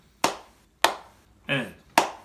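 Hand claps in a children's piano class, three sharp, evenly spaced claps near and alone, with a brief spoken syllable between the second and third.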